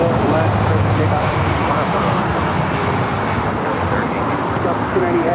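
An airliner roars down runway 24 left at LAX on its takeoff run, a loud, steady broadband engine rumble holding from start to finish, with airport radio voices faintly under it.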